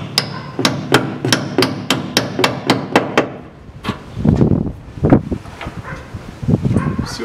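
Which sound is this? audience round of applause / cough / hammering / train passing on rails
hammering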